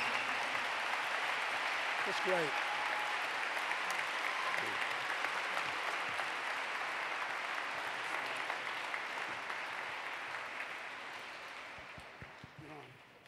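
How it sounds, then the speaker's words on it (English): Sustained applause from a gala audience honoring Courage Award recipients at the Sarcoma Foundation of America benefit, a steady wash of clapping that slowly fades toward the end, with brief voices speaking over it. "How about one more round of applause for all our Courage Award recipients."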